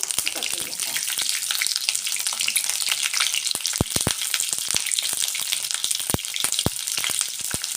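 Stuffed bell peppers (bharli dhobli mirchi) frying in a pan, a steady close sizzle with sharp crackles and pops scattered throughout, no talk.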